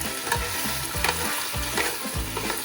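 Meat searing in a pan for nihari, a constant sizzling hiss with a rhythmic low swishing or scraping repeated about four times, close and clear with no talking.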